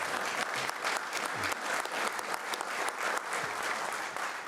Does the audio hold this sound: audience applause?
yes